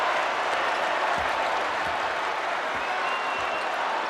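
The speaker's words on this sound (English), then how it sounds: "As you can see, the crowd goes nuts." A basketball arena crowd at a North Carolina vs NC State college game applauds and cheers in a steady, distant-sounding wash of noise that fills the whole stretch.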